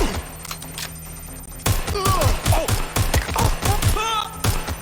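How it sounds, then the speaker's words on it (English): Rapid gunfire in Watch Dogs Legion, a dense run of sharp close shots in quick bursts that starts after a quieter opening, with shouted voices mixed in. "Shots fired!"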